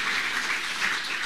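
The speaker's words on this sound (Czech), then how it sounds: "Takže zatleskáme do úvod." An audience applauds at a public lecture on drinking-water treatment, a steady, dense wash of clapping filling the hall from start to finish.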